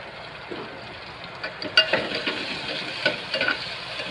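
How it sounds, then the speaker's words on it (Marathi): Onion sizzles gently in hot oil with garlic and chilies in a pan and is stirred with a spoon, giving soft scraping clinks over a steady low frying hiss. "कांदा चांगला परतून घ्यायचा."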